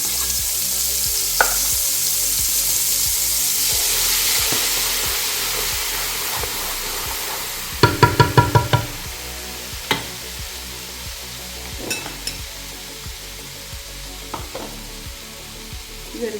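Mustard seeds and spices fry in hot oil for a salmon pickle, a continuous close sizzle with a burst of sharp crackling pops midway and scattered spits after.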